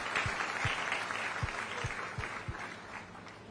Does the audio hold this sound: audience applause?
yes